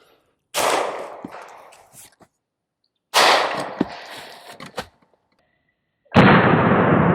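.45 pistol shots from an FM45 with a 7.5-inch barrel, firing Federal ball ammo at a current-issue US Army helmet: three loud, sharp reports a few seconds apart, each ringing out briefly, with no talk.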